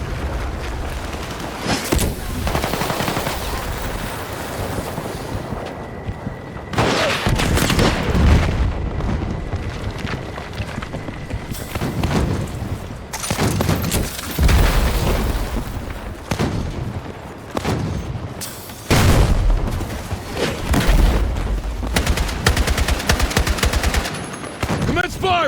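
Gunfire and explosions from a Battlefield 6 campaign battle crackle in dense bursts of machine-gun fire broken by heavy booms, loud and continuous, with shouted voices now and then.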